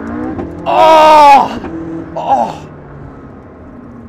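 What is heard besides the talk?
McLaren sports car engine revving, popping between shifts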